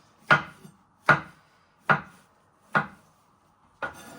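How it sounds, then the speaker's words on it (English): A knife slicing mushrooms on a chopping board while prepping vegetables for Singapore vermicelli: five evenly spaced, crisp chops about a second apart, close and clear with no talking. "So first up, we're going to prep all our vegetables. You first want to slice them into pieces."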